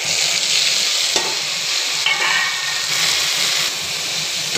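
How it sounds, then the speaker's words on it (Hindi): Bhaji greens fry loudly with browned onions and dried red chilies in a pan, giving a strong, steady, close hiss with occasional stirring scrapes. No one speaks. "प्याज जब थोड़ा सा हल्का सा ब्राउन हो जाए तो फिर भाजी को डालेंगे।"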